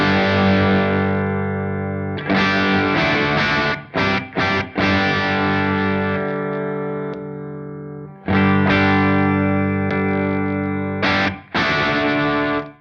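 Electric guitar played through a Soldano SLO Plus overdrive pedal on its normal channel with gain backed down, sustained distorted chords ringing loud and alone, broken by a few short choppy stabs and brief pauses.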